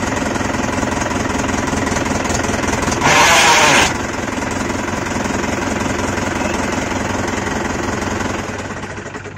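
A tractor engine, started after a fault, runs roughly with a loud, steady knocking chug. A harsher, brighter roar swells for about a second before it settles back into the uneven idle.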